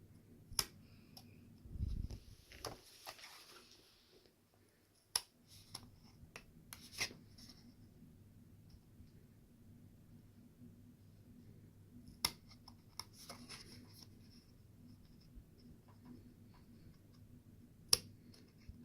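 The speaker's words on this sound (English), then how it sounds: "I'm going to cut along each square, and that tape kind of makes it a little harder" Scissors or a blade cut slowly along squares of taped material, giving quiet intermittent rasping and scattered sharp clicks with long near-silent gaps.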